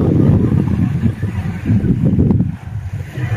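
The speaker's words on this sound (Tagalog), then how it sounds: "Mahangin po." Strong gusts of wind buffet the microphone outdoors on Prince Edward Island, producing a loud, continuous low rumble that swells and briefly eases, with no voices.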